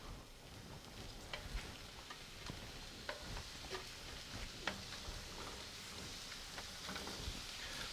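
Mushrooms fry in a little extra virgin olive oil in a pan, with a faint steady sizzle and crackle and scattered small pops throughout, no voices.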